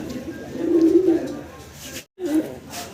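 A male Bombay pigeon cooing close by, a low throaty coo followed by a brief silence and another shorter coo.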